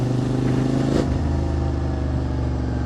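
QJ SVT 650X motorcycle engine revving after an ECU flash, a loud continuous roar with a rising throttle blip near the start, heard close up with no talk.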